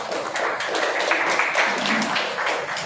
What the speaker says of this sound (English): Kindly applaud for both the judges.